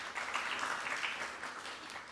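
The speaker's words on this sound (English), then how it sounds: "Another round of applause," An audience applauds at a finance lab launch event, a continuous patter of many hands, quiet and somewhat distant, holding steady without voices.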